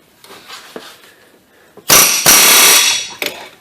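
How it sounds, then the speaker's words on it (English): Air hammer driving a long chisel into a stuck ball joint on a Nissan Versa, a loud, close burst of rapid hammering after a few quieter clanks and knocks, then a brief final rattle. "I got an air hammer and a really long chisel."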